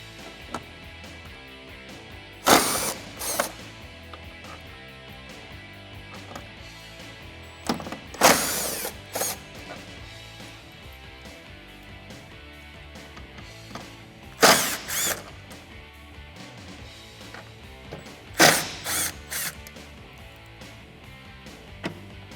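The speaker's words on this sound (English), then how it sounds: "We're going to get all 4 of these bolts here using a T40." A T40 driver loosens the cowl bolts on a Jeep Gladiator JT, giving four separate short bursts of ratcheting, whirring tool noise with quiet gaps between them, under soft background music.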